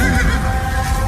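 A horse neighs as a staged sound effect in a spoken drama, a loud drawn-out whinny close to the listener, heard alone without voices.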